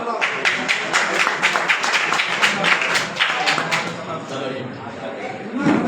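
Audience at a Maratha history gathering applauding, a dense steady patter of many hands clapping at moderate loudness, slowly thinning toward the end, with voices mixed in.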